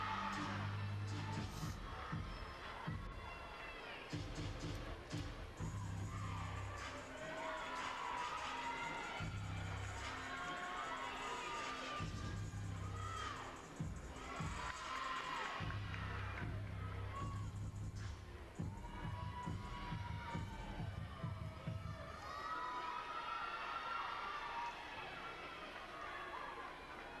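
A crowd and teammates cheer on a gymnast during an exhibition routine at an Iowa versus MSU gymnastics meet, with continuous loud cheering, chatter and babble filling a large arena, along with music and voices throughout.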